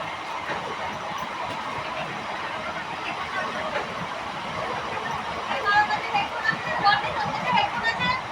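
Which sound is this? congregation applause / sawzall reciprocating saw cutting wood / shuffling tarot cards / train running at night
train running at night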